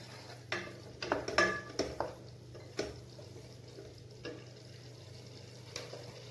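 A spoon stirs red chili powder into sambar in a metal pot, making a quick burst of close clinks and scrapes against the sides, then a few sparse taps before it settles into quiet.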